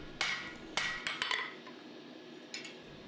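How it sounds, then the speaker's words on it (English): Hammer striking a steel dagger blade on an anvil during forging, about six bright ringing metallic blows in an irregular rhythm, close and loud with short decaying rings between hits. "I'm using the edge of the hammer to just draw out that distal taper a little bit more"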